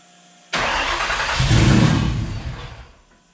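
A Coyote V8 swapped into a Fox body car fires up for the first time, cranking then catching into a loud, rough idle that swells briefly before settling and fading, with no talking.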